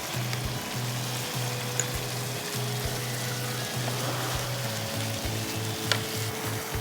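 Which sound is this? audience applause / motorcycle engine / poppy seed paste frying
poppy seed paste frying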